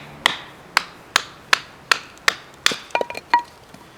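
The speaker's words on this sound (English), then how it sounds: "this knife, even though only being a little over 3 inches, will baton just fine for all the tasks that I ask of it" Repeated sharp cracks of a Bark River Northstar knife, a flat-ground blade just over 3 inches, being batoned down the middle of a piece of wood; about seven evenly spaced strikes, then a quicker cluster of splitting cracks, close and clear with no talk.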